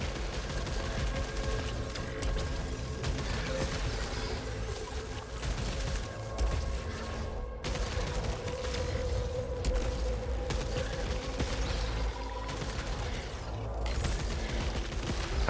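Weapon fire from a tachymatic carbine and pistol in the Returnal video game, a dense, nonstop barrage of rapid shots and mechanical bursts layered over booming game effects, loud and sustained throughout.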